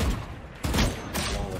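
Gunfire in the video game Valorant, a close, loud burst of rapid shots in quick pulses filling the short moment.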